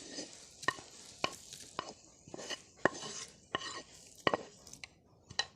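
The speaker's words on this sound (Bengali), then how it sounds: "এবার এই বাটিতে পেঁয়াজটা নিয়ে নিচ্ছি।" Fried onion scraped and spooned from a pan into a bowl, a series of sharp clinking and scraping knocks at an irregular rhythm, close and fairly quiet, with no talk.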